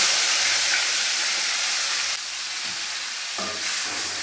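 Tomatoes sautéing in hot oil as the base for an egg gravy, a broad, continuous hissing sizzle that dips slightly midway and then holds steady.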